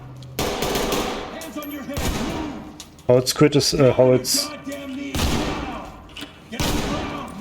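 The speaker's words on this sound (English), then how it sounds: "Okay, I'm hearing gunshots." Gunshots and bursts of machine-gun fire in the tactical shooter Ready or Not, set in a high school, crack out loudly in repeated volleys across the span, with a brief voice heard among them.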